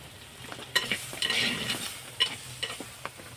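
Banana flower frying in a pan over a soft, constant sizzle, with a spatula stirring and scraping in irregular knocks and a longer scraping sweep in the middle, up close.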